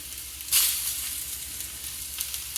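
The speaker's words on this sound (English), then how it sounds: "these in oil so that you hear the sizzle, just like that" Sliced Gujarati patra rolls drop into hot frying oil with spices, bursting into a loud hissing sizzle that settles into a steady, softer crackle.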